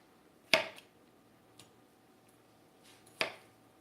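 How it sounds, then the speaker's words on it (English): Ingredients for a pizza lasagna being chopped on a cutting board: two sharp knife strikes about three seconds apart, with a fainter tap between them, close and quiet, no talking. "I need to come in and do a little bit more chopping on this section right down there"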